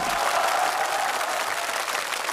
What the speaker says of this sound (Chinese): 谢谢大家给我热情洋溢的掌声